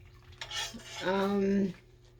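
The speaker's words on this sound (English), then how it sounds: "Mix it so I can see if it's still red. Make sure that it with a regular spoon." A regular metal spoon scrapes and knocks around a pot of Ukrainian borscht, a brief clatter followed by a longer ringing scrape, close and fairly loud with no speech.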